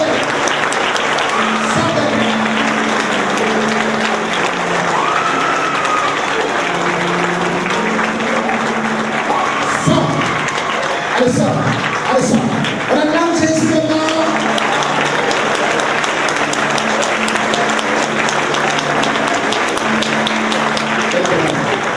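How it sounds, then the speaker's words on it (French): A church congregation applauds and cheers for Jesus, a dense sustained wash of clapping from a crowd that stays loud throughout, with voices calling out over it. "On acclame Jésus."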